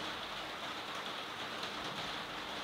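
Steady rain pours down in a dense, even hiss with no pauses, close and fairly loud, no voices present.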